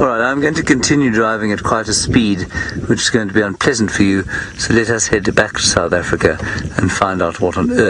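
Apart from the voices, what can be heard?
No everyday noises stand out.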